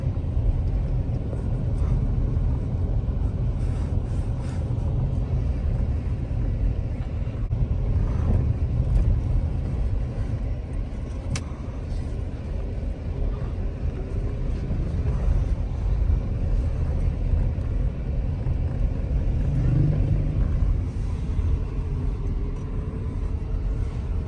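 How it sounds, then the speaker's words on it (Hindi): A car rumbles along a bumpy, potholed road on the drive from Islamabad to Dadyal, with a continuous low engine and road drone and occasional jolts heard from inside the vehicle. "मैं अभी गाड़ी चला रहा हूँ"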